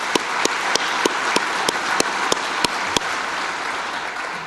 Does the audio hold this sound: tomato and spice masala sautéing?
no